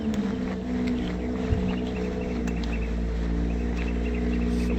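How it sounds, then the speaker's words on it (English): In the video game Recollect, a steady engine drone like a motorcycle runs loud and close for several seconds with a low rumbling hum, a brief bump, and no talk over it. "That didn't sound like a ding, it sounded like a motorcycle."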